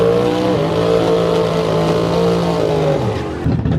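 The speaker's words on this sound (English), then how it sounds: "We got a BMW SUV running." A BMW SUV racing on a track at a high-horsepower racing event, its engine holding a loud, steady, droning roar close by before the pitch dips and wavers near the end.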